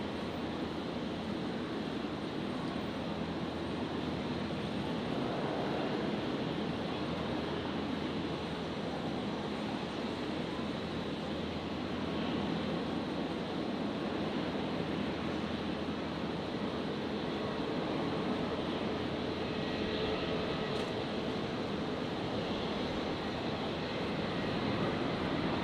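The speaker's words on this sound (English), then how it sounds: "So Virgin 1104 on the roll." A Virgin airliner at Brisbane International Airport rolls for takeoff at night, its jet engines a steady, broad roar that holds loud and unbroken throughout, with no talk over it.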